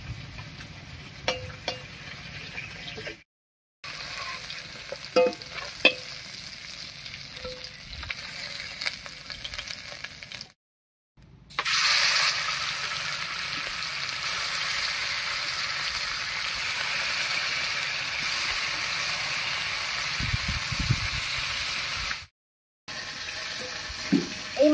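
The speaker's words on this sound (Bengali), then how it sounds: "এই মাছটা ভাজা হয়ে গেছে, নামিয়ে নিচ্ছি।" Fish frying in oil in a pan, a continuous crackling sizzle with occasional pops and stirring scrapes, broken by a few brief silent cuts and growing louder and denser partway through.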